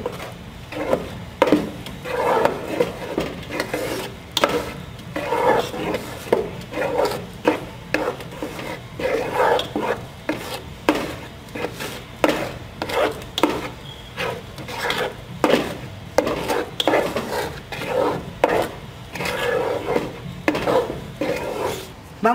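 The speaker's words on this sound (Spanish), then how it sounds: "Vamos a revolver" A wooden spoon stirring mole in a pot, rhythmic rasping scrapes against the pot repeating every second or so, close and steady throughout with no talking.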